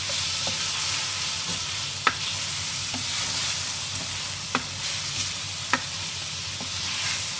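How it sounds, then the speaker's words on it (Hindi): Chicken pieces fry in a pan for a mutton-style daal gosht, giving a steady close hiss of sizzling oil broken by a few sharp clinks of a spoon stirring against the metal. "चिकन को अच्छे से फ्राई कर लेंगे"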